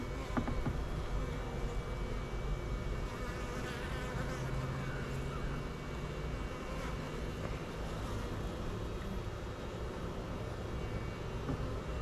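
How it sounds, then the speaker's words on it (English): Many honeybees buzz continuously around a hive with a second deep brood box added, a dense droning hum with individual insects flitting past close by. "Yeah, these bees are going to town on all this."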